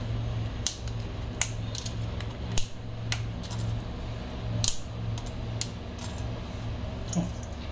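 Dry cinnamon sticks snapped by hand into small pieces, giving a series of sharp, irregular cracks and clicks, close and distinct over a steady low hum.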